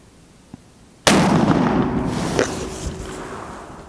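A single loud gunshot from an M1916 Spanish Mauser rifle chambered in .308, a sharp close crack followed by a long decaying outdoor echo.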